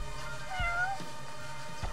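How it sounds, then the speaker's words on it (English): A cat meows once in the video game Judgment, a short, thin mew heard faintly over quiet in-game ambience and background music. "Oh, a cat."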